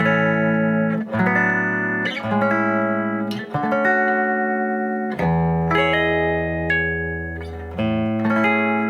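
A bright, twangy electric guitar on its bridge pickup plays a sequence of sustained chords and notes, clear and close, with no voices.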